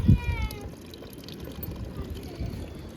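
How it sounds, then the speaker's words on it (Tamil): Water poured into a pot of goat leg soup (paya) on the stove, a brief splashing gush at the start followed by a soft trickle and low background noise. "இன்னும் கொஞ்சம் தண்ணி ஊற்றிடலாம்."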